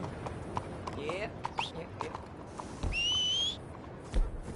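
Video game horse hooves clop unevenly, then a high, drawn-out whinny-like cry rises briefly before the clopping continues, ending with a dull thump.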